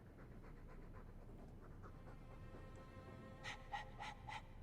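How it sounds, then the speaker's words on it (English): A dog panting in Dragon Age 2, quick rhythmic breaths held at a low, steady level, with a few brighter, sharper pants near the end. "All that noisy dog breath"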